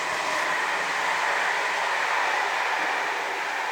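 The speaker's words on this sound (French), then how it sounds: "il y a un train qui passe" A passing train gives a loud, steady roar and rumble of rail cars close by, holding at an even level throughout with no speech over it.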